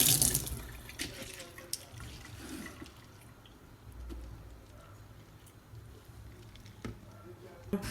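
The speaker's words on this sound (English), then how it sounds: "now you wash your gloves." Running water from a tap splashes steadily as gloves are rinsed, with faint handling noises and occasional clinks.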